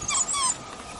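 African wild dogs give high, thin whimpering yips in the open bush, a brief cluster of squeaky calls that is loudest at first and then trails off.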